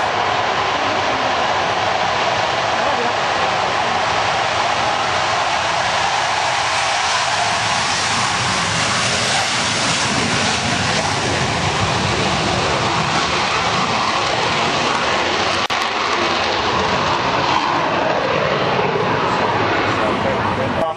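A large twin-boom aircraft at the Biggin Hill Airshow gives a loud, continuous engine roar that fills the whole stretch without easing, with the broad rushing noise of a close flypast and no clear break.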